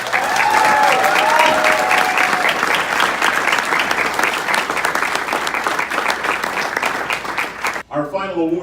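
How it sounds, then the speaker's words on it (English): Loud, sustained applause from a large crowd at a university awards night fills the whole stretch, dense and steady, with a whistle early on and a voice starting at the end. "One more big round of applause."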